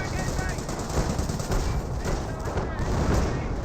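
Artillery and cannon fire in a Company of Heroes battle, heard as dense, continuous booms and rapid gunfire at steady loudness throughout, with a voice speaking over it.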